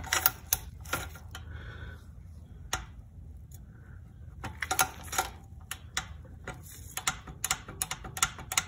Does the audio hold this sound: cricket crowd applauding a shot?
no